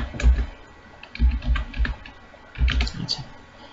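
Rapid bursts of keystrokes on a computer keyboard while C code for file error checking is typed, clustered in three quick runs with brief pauses, close and clear with no voices.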